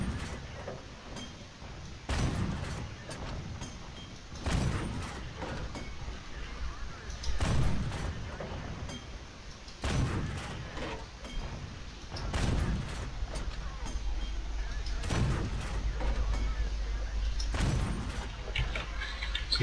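A Matilda Black Prince tank's main gun firing repeatedly in World of Tanks, eight or so booming shots at a steady interval of about two and a half seconds over engine rumble.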